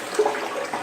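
A toilet in an empty move-out house flushes with a steady, close rush of water that runs evenly throughout, with no voices.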